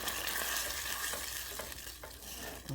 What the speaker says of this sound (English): we're gonna heat up our salsa. Right there in the same pan.